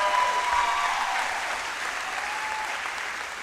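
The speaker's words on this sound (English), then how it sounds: "How about one more big round of applause for our 2023 volleyball seniors." Applause for the 2023 high school volleyball seniors fills a gym, a steady crowd clapping that starts loud and eases slightly while continuing without a break.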